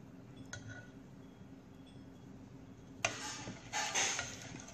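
A spoon scraping and clinking against a bowl while cream is stirred into cooked sago pudding, faint ticks at first, then louder swishing and scraping strokes near the end.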